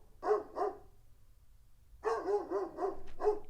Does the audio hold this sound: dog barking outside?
yes